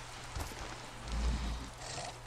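Rain in the video game Far Cry 6, a steady hiss of falling drops with a low rumble swelling in the middle, fairly quiet and without speech.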